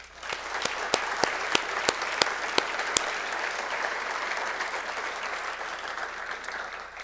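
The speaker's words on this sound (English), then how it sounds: "So how about we give them all another round of applause." Meeting audience giving award winners a steady round of applause, with several sharper individual claps standing out early before the clapping evens out and tapers slightly.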